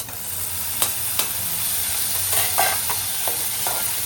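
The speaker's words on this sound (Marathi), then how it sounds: "आपण थोडासा हलकासा परतून घेऊया." Chopped onion and tomato sautéing in a pan for a prawn stuffing, with a steady close sizzle and hiss broken by a few sharp stirring scrapes, no voices.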